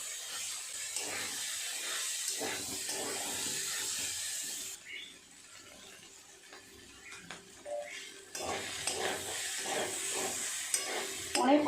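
Mutton mince with fried potatoes being sautéed in a pan, a steady sizzle running throughout with repeated scraping stir strokes that dip briefly in the middle, then grow busier again near the end.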